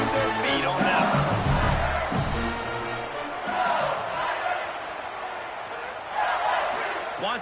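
A stadium crowd at an LSU football game cheers a punt return, its roar swelling and easing in repeated waves, loud and dense throughout.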